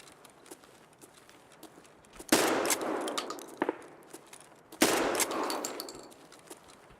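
Gunfire erupts in the video game Escape From Tarkov: two bursts of loud, close automatic fire roll out a few seconds apart. Between them come scattered clicks and footsteps, with no talking.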